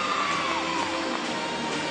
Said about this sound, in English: You can hear the crowd getting a little bit louder as Alabama gets on floor.